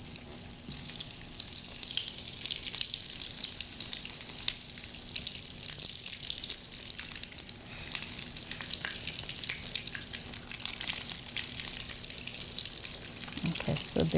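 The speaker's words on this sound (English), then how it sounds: "Okay, so now I'm frying the eggplant." Eggplant frying in hot oil over high heat in a home kitchen, a steady close sizzle throughout, with light stirring clicks toward the end.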